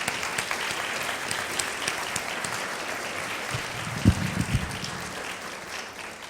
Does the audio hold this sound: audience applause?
yes